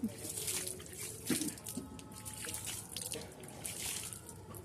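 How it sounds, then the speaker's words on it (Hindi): Water is sprinkled from above over freshly planted potted flowers, giving a soft continuous patter and splash with small drips on soil and leaves, close by and fairly quiet, with no talking. "मैं थोड़ा सा ऊपर से भी छिड़क देती हूँ, क्योंकि इनको लगाने में ऊपर मिट्टी हो गई थी।"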